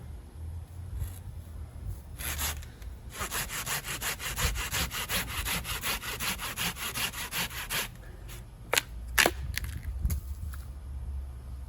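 Old knobs are sawn off a moringa tree trunk with a hand saw, fast rhythmic strokes rasping through wood, close and loud, pausing near the end for a few single scrapes.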